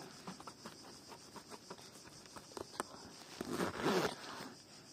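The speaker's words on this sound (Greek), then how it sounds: "Και αυτό το φερμουάρ δεν είναι για κοσμητικό, ανοίγει. Να, θα το ανοίξω." A zipper on a handmade Smiling Critter plush is pulled open in a string of soft rasping ticks, ending in one longer, louder zip near the close, quiet and close up.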